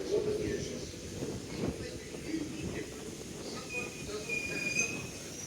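London Underground 1992 stock train at Stratford station, rumbling steadily with squealing wheels and a few high metallic whines toward the end, fairly close and continuous, with voices and a background announcement mixed in.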